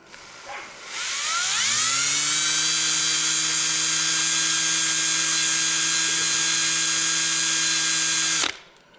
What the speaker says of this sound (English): So all I want to do is just carefully drill that.